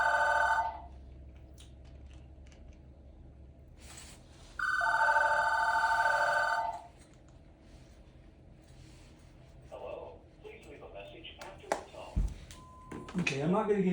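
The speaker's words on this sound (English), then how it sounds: "I'm going to let it ring until there's an answering thing." Indoor telephone ringing from a cordless phone in two distinct bursts of electronic trilling, loud and close, followed by softer clicks and handling noises, with no speech over the rings.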